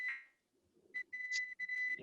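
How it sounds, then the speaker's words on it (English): A few short electronic beeps from a car, thin and fairly quiet, with a brief pause between them. "My car is beeping, all kinds of stuff."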